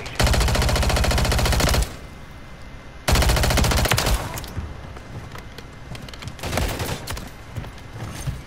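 Automatic gunfire from Call of Duty during a free-for-all match: a long, loud sustained burst, a pause, then another rattling burst and a later shorter volley, with game ambience between.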